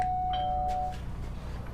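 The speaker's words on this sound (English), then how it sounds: "Nifty little doorbell they got there." Doorbell chiming with one clear sustained electronic tone that fades out over a low background hum.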